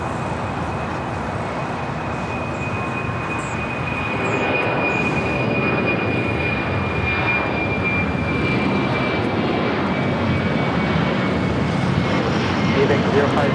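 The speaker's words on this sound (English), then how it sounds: "We got that ABX Air heading to Cincinnati, converted 767, now take it off 25 right." An ABX Air converted Boeing 767 cargo jet bound for Cincinnati takes off from runway 25 right at LAX, a steady broad engine roar that swells louder after a few seconds and holds at a distance, with faint radio-style talk underneath.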